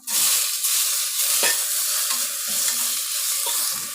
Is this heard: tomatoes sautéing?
yes